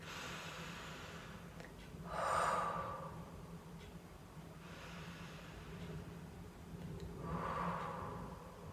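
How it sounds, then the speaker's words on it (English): Slow, deep breaths during an EFT tapping relaxation exercise: three soft, audible inhale-exhale swells spaced a few seconds apart, quiet and close, with no talking. "Three breaths again."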